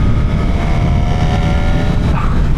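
A Honda Hornet 1000 SP motorcycle engine drones loud and steady at close range, holding a continuous rough roar with no talk over it.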